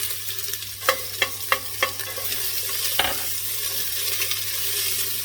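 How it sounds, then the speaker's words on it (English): Onions fry in heated oil in a pot for pumpkin soup, a soft constant sizzle under several sharp spoon knocks and scrapes as they are stirred, no voices. "So once that's just heated up a little bit there, we're going to just add our onions."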